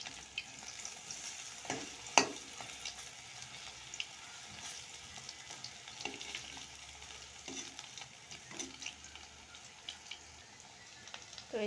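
Chickpea and onion piyaju fry in hot oil with a soft continuous sizzle, broken by several sharper crackles and clacks as the fritters are turned one by one; quiet, no talking.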